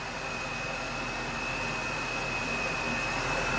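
A supercharged Honda S2000 engine runs steadily, giving a continuous airy whoosh with a thin, constant high whine on top, unbroken and even in level throughout.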